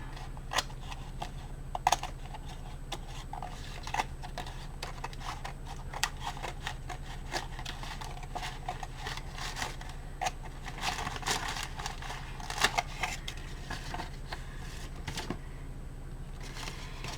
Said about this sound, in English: we're going to trim all along here